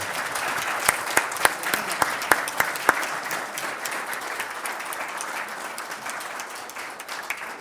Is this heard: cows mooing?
no